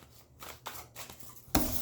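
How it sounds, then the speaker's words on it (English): A deck of cards is shuffled and cut by hand, soft riffling flutters and short papery snaps coming in bursts up close, ending in a brighter slap of cards, no voices. "I'm going to shuffle a couple more times, and then with my left hand, I'm going to cut the deck"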